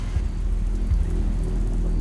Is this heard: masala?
no